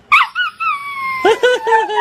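Dog howling and whimpering as played-back recorded audio, a couple of short yelps leading into a long drawn-out howl and then a run of wavering whines, close and fairly loud.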